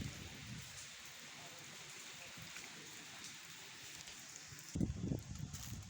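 Steady rain falls outdoors as a soft, constant hiss with faint pattering, low in level throughout, with a brief louder thump or rustle near the end.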